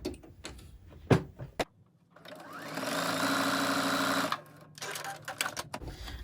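A sewing machine stitching down fabric for a reusable take-out coffee sleeve: a steady whirring run of about two seconds, preceded by a few clicks and knocks, with more handling taps afterwards.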